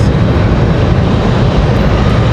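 A C-190 airliner arriving from Boston at Raleigh-Durham airport, a loud steady broadband engine roar held close and constant throughout, with no talk.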